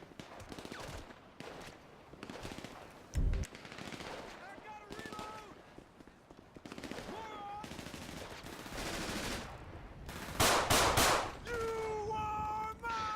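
Heavy-weapon gunfire from a zombie survival mod of the video game GTA V, on PC, comes in scattered bursts and single shots with several loud cracks near the end, mixed with game sounds and some talk.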